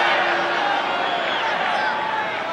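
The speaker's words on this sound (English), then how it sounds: "and the crowd not happy" Disgruntled spectators at a 1990 Syracuse versus Brown college lacrosse quarterfinal, a steady mass of booing and jeering crowd noise filling the arena, with a commentator talking over it.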